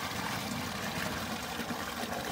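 Tap water runs steadily on a small permaculture plot, a quiet, even hiss of flowing water close by with no voices.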